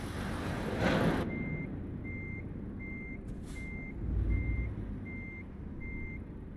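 Truck reversing alarm in American Truck Simulator, a steady series of about seven evenly spaced electronic beeps over a low engine rumble, with a brief air-brake-like hiss near the start.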